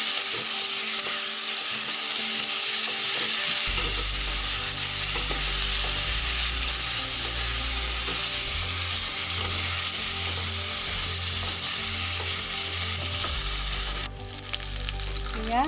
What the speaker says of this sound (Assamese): একেলগে ভাজি ল'ম।